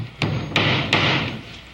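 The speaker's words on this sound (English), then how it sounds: "You were going to show me how to hammer a nail without hitting my fingers." A hammer drives a nail with three loud, evenly spaced blows, each a sharp, close strike followed by a short ring, over a steady background hum.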